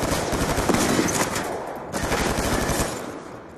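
Rapid shotgun blasts in Call of Duty: Black Ops 2 team deathmatch on the Slums map, loud and close in a dense burst, then a short pause and a second run of shots with game noise underneath.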